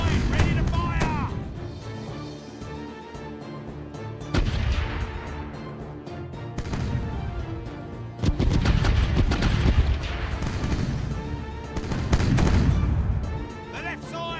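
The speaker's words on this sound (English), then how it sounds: "The right side, ready to fire! The left side, ready to fire!" Ship cannons fire broadsides in Caribbean Legend: Age of Pirates, repeated volleys of heavy booms rolling out in bursts over several seconds, with voices shouting commands over the gunfire.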